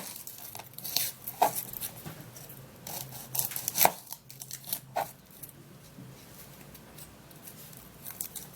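Knife cutting the head off an onion, a few sharp chopping cuts and crunchy slices spread unevenly across the moment, close and fairly clear with no voices.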